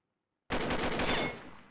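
A burst of rapid automatic gunfire from a video game shooter starts abruptly after silence, with loud, closely spaced shots that then fade out.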